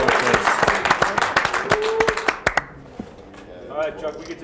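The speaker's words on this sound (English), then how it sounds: "Give him a round of applause," A small crowd at a live-streamed poker game claps for an eliminated player, distinct sharp claps that thin out and stop, followed by people talking nearby.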